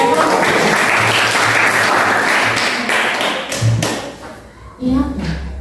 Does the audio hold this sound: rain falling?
no